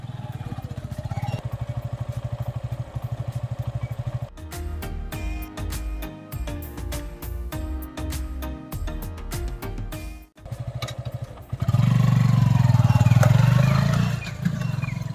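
A motorcycle rides along, heard by a rider wearing a Steelbird SA-2 helmet, with a continuous engine drone and wind rush. The engine note changes midway and swells louder near the end.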